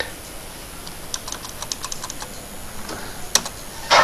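Keys on a computer keyboard tapped while writing C++ code, a loose run of light clicks scattered through the clip over a faint steady hiss, with a brief louder clatter near the end.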